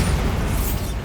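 A Bombarda blasting spell in Hogwarts Legacy goes off as a loud, dense explosive boom with heavy low rumble, sustained through a single burst of just over a second.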